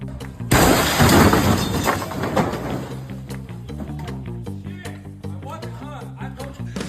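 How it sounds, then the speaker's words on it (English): A Subaru crashes through a Utah car dealership wall: a loud crash and shatter of breaking glass bursts out, followed by scattered clinking debris and ringing tones as the impact fades. "A customer crashes his Subaru through the wall at a Utah dealership."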